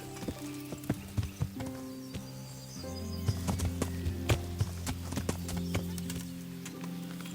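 Horse hooves clip-clopping in irregular, fairly close steps, with a neigh cutting in, from the medieval game Kingdom Come: Deliverance over a quiet ambient backdrop.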